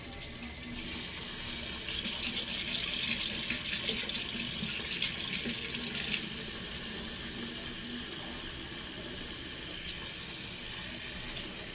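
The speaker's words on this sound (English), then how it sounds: "So now I'm gonna put some like warmish water." Warm tap water running from a faucet into a spray bottle, a steady close splashing hiss that shifts in tone partway through as the bottle fills, with no one speaking.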